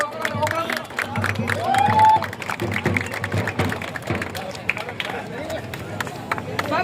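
Crowd at an anti-drug awareness rally in Chodavaram clapping and cheering in a burst of loud applause, with a loudspeaker voice talking over the noise nearby.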